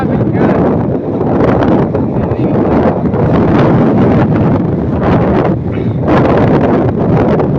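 Strong, steady wind buffets the microphone on a mountainside, a loud continuous roar with gusty swells and no clear voices.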